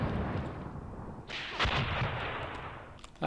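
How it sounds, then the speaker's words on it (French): Anti-aircraft flak gun firing in the Graviteam Tactics war game, a sudden loud burst of gunfire that sets off a sustained crackling roar, with a sharper report partway through and another at the end. "Notre flak qui tire."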